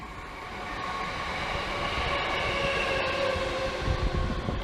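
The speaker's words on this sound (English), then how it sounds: "class 319, number 262, Northern service to Liverpool, passes healed green" A Class 319 electric train rumbles past at steady volume, a broad roar with faint rail noise building slightly toward the end, no voices.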